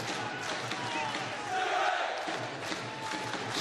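Boxing arena crowd at a Stuart Hall versus Vusi Malinga fight, a broad swelling roar of cheering and shouting that rises midway, heard from amid the audience with no clear speech over it.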